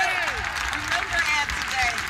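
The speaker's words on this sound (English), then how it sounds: "Let's give Ed a round of applause, too." A crowd at a campus grand opening applauds in a dense, steady wash of clapping, with faint squeaky tones and a little murmur mixed in underneath.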